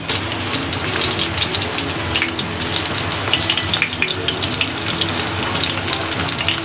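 Kaala (salmon) fish frying in oil on a tawa, a steady, close, dense sizzle and crackle that holds evenly throughout with no talking.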